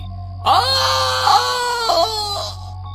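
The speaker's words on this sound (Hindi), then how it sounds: "एक जोरदार भयानक चीख की आवाज आई" A loud, anguished human scream after someone jumps from a moving train wails in rising and falling cries for about two seconds, close and dominant.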